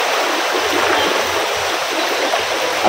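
Heavy river water after monsoon rain near Lanja, Ratnagiri, roars in a constant, loud, close rush with no voices over it.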